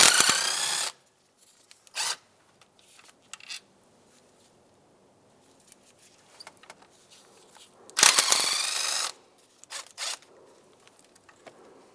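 A ratchet or power driver backing out 5/16 bolts from the intake of a 2007-2015 Mazda CX-9, two loud buzzing bursts of about a second each, separated by quieter clicks and short ratcheting taps.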